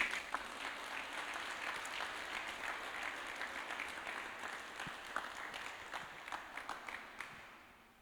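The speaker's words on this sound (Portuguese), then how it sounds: "Vamos dar uma salva de palmas para Jesus?" A church congregation claps for Jesus during a Thursday service, a soft, distant wash of applause that thins into scattered individual claps before fading out.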